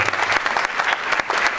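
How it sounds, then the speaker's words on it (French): Audience applause fills a 2014 Aveyron award ceremony for France's best apprentices: a dense, steady round of clapping from a crowd, loud and close, with no voices over it. "Et des applaudissements, s'il vous plaît"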